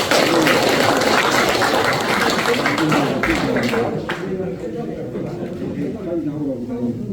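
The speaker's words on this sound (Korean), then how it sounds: "박수 한번 주시죠" Applause from a seated assembly at a regional branch general meeting, a broad steady wash of many hands clapping that fills the room for several seconds, then thins out as talk resumes over it.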